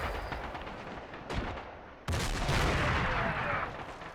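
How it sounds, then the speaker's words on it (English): Mortar and artillery fire in the war video game Blue Dawn Rise of Nationality, set at the 1999 Battle for Košare: continuous loud rumbling blasts with a sharp crack partway through and a heavier sustained barrage after it. "Yes, these are Albanian mortars"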